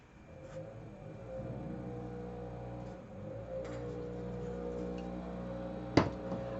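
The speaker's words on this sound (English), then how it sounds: "they're grinding and tearing a tree down in my backyard" A steady mechanical drone of heavy machinery runs throughout as a tree is ground and torn down in a backyard, with a sharp crack or snap near the end, like wood being ground and broken nearby.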